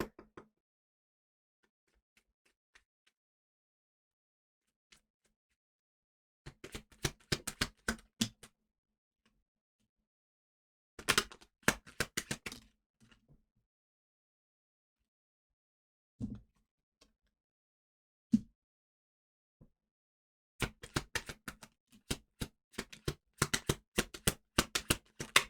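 Tarot cards being shuffled and pulled, several bursts of rapid, crisp riffling separated by quiet pauses, with a few isolated card snaps in between, close and fairly soft, no talking.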